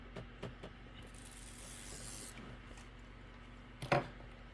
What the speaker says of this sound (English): I'm going to give it a little shot of spray so it'll hold in place.